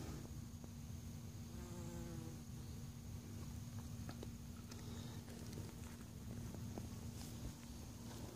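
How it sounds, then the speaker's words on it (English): Bees hum faintly outdoors around buckwheat flowers in a garden, a soft continuous buzz with occasional closer passes, under light wind and a steady low background drone. "The bees really love that buckwheat."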